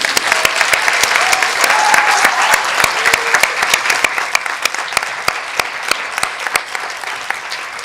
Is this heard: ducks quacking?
no